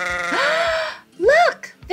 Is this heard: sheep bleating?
yes